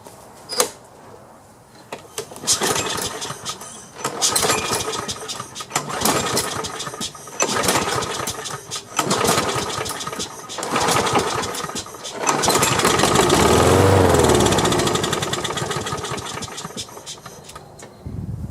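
A Craftsman lawn mower with a loose muffler, just primed, cranks and runs in uneven bursts, its small engine sputtering and surging before settling into a louder steady roar close by, with no talking.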